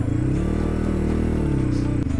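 A new motorcycle engine runs close and loud while riding out of a village, a steady mid-pitched drone with slight rises in revs and a brief clatter near the end.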